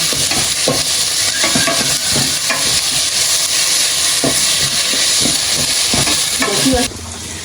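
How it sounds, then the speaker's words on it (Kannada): Onions frying in a pan for a spicy egg dry roast, with a loud, continuous sizzle and repeated scraping stir strokes throughout, which stop abruptly near the end. "ಅದು ಹಸಿ ಪೂರ್ತಿ ಹೋಗೋ ತನಕ ಫ್ರೈ ಮಾಡ್ಕೊಳ್ಳಿ ನೀಟಾಗಿ"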